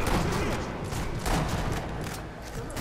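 Dense gunfire from the sniper shooter video game Sniper Elite V2, a rapid flurry of overlapping shots and booms that stays loud throughout, with game background noise underneath.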